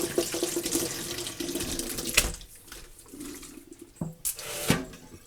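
Liquid drained from an opened can of hominy into a sink, an uneven splashing trickle with bursts and pauses, close by and fairly quiet, ending in a few sharp clinks and splashes.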